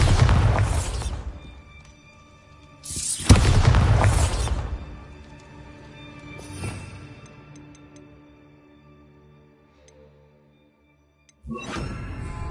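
Two loud spell explosions from the Bombarda charm in Hogwarts Legacy, each a heavy booming burst with a rumbling tail, followed by a fainter blast and ringing debris, then another burst at the very end.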